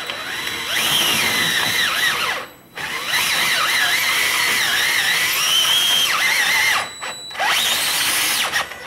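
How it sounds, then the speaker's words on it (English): A power drill run at slow speed while installing 12mm wheel studs whines in three long bursts, the pitch wavering under load, with short pauses between them. The drill sounds loud and close, and no one speaks. "you really gotta hold the drill like a boss in a situation like this"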